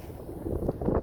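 Strong wind buffets the microphone out on the water during a cold bass-fishing trip, a low continuous rumble that swells in gusts toward the end, with no talking.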